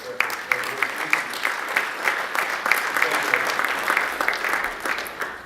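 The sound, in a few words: audience applause at an awards luncheon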